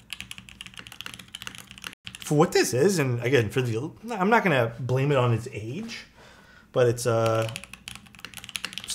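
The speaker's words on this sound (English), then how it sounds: "the space bar on aluminum top mount always sounds like this." Keystrokes and space bar presses on a Time 80 aluminum top-mount mechanical keyboard, sounding as close, sharp clicks, clearest in a brief quiet stretch at the start and in a short pause later, mostly running beneath someone talking.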